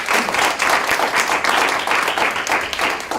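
An audience applauds a conference speaker at a talk on algorithms and elections, with steady, dense clapping filling the room throughout and no voices rising above it.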